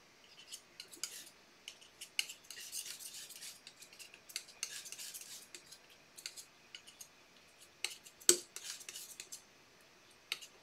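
A palette knife scrapes, taps and smears oil paint on a palette while thickening it, giving soft irregular scraping strokes and one sharper clack near the end, close and quiet with no talking.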